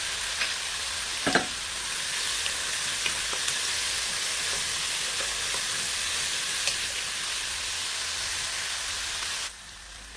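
Onion and garlic frying in oil for red lentils make a constant broad hiss with a few faint stirring clicks, steady and moderately loud before cutting off near the end.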